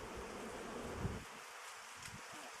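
Faint, low buzzing of bees drones continuously during transfer of a colony to a new hive, a bit louder at first and then thinning out, with no voices.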